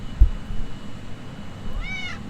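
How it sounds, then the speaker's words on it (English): A farm cat gives a single clear meow near the end, rising and falling over a low rumbling background, with nothing else prominent. "Meow."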